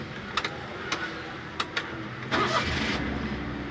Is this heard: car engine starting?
yes